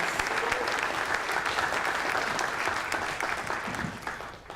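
A seated summit audience applauds the year-long planning committee with sustained, dense clapping that stays loud and steady throughout before easing slightly at the very end.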